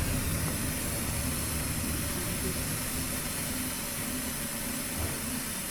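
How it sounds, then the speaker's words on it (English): A steam jet blasts at a car engine during an oil leak check, giving a loud, continuous broadband hiss that holds steady with no break throughout. "we're going to do the test with the steam again to see if there's any more other oil leaks in the engine"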